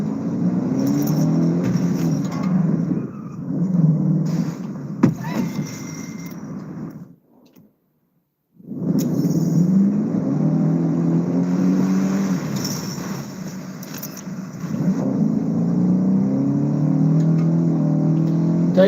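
A car in a video game drives off-road through a forest, its engine droning and revving steadily with one brief drop-out partway through. No voices are heard.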